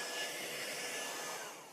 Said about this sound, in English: I'm going to hit this with the dryer real quick